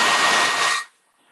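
A hair dryer blows steadily at close range, quick-drying paint on a barn quilt, then cuts off abruptly after about a second, leaving near silence.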